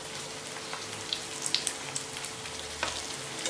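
Aloo tikki shallow-frying in a pan with little oil, a soft steady sizzle with occasional faint crackles and small pops, close by with no talking.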